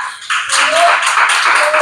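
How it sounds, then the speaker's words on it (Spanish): A church congregation bursts into a short round of applause, dense and close, rising abruptly and sustaining for under two seconds. "Eso era para darle un buen aplauso al Señor"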